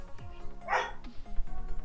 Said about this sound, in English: My dog's freaking out, I don't know why.